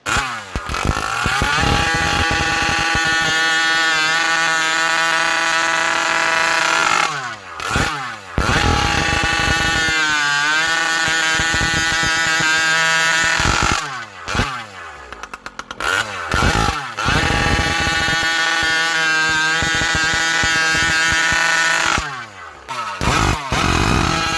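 A small clone engine fitted with a homemade expansion chamber runs on a dyno, rising to a loud, raspy high-revving buzz in several long pulls, each dropping briefly before winding up again, with no talk.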